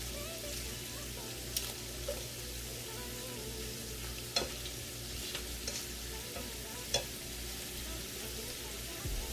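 Cabbage, shrimp and sausage cook in a pan with a soft, steady sizzle and an occasional faint tick or stir, heard quietly from a short distance with no voices.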